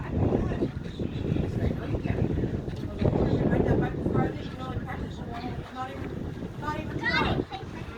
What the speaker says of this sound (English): Man, it's windy now.